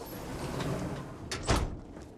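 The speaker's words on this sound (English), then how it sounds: "are they gonna let me open that door now?" A sci-fi door slides open in the video game Starfield with a quick mechanical whoosh and hiss, following a low ambient hum.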